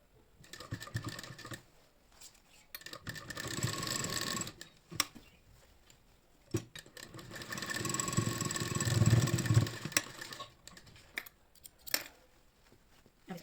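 A sewing machine stitches a kurti made from an old saree, running in two longer whirring bursts between brief taps and clicks, close and moderately loud, with pauses between runs.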